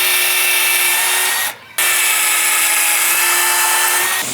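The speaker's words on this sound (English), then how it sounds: "So we just drill a pilot hole" Power drill boring a pilot hole for a screw in a dragon fruit trellis frame, a loud steady whine that stops briefly near the middle, then runs again to the end.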